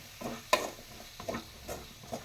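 Chopped colocasia (taro root) pieces stir-fried in a pan for kaaraamani kaara kuzhambu, with close scraping stirs in an uneven rhythm and a sharp spatula knock among them over a faint sizzle.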